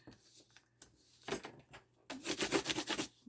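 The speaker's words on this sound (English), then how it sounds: "Burnish it down." A paper envelope being burnished down by hand after tape and glue, heard as close, quiet rubbing strokes, a few short scrapes early, then a quick run of rhythmic rubbing passes near the end.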